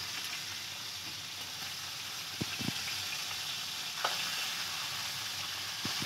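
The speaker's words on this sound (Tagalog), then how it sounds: "Nagprito isda." Fish frying in oil, a steady broad sizzle running throughout at moderate level, with a few faint clinks and taps from the pan or utensils.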